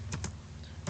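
A few key presses on a computer keyboard while entering a terminal command, three crisp clicks spaced unevenly over a second, close and distinct over a steady low hum.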